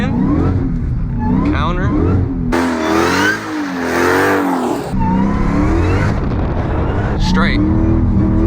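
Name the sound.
car drifting through an S-turn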